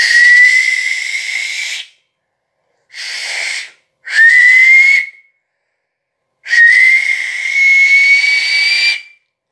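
Loud, shrill finger whistles in four separate bursts, each a sustained piercing tone that rises slightly in pitch, with short silences between them.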